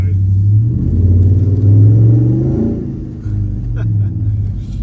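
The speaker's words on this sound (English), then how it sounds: "supercharged V8 in a massive dual cab" A supercharged V8 dual cab ute accelerating on a short run, a loud, deep engine rumble rising in pitch, dipping briefly at a gear change, then pulling again, with people talking over it.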